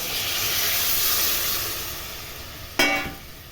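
Water poured into a pan of cooking vegetarian aloo dum, giving a broad steady hiss that slowly fades, then a brief sharp sizzle burst near the end, quiet and close with no talking.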